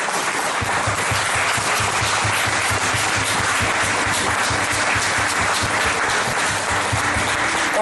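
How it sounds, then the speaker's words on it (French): Church congregation applauding, a dense, steady burst of clapping from many hands that fills the room for several seconds without pause. "J'aimerais qu'on puisse acclamer la parole de Dieu"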